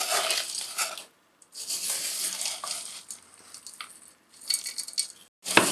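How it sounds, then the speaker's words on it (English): Granola oats being stirred with a butter and sugar mixture, in bursts of scraping, crunchy rustling and light spoon clinks against the bowl, broken by short pauses, close and fairly quiet, no talking. "we're going to give it a good stir around to mix it all in"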